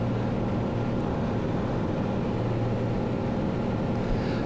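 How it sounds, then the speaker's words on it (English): Steady low engine drone, loud and continuous, from a float plane in Alaska slowing down to land, a constant rumble and hum. "slowing the plane down, getting it ready to land."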